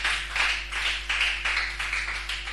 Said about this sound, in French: Nous acclamons le Seigneur pour lui dire merci.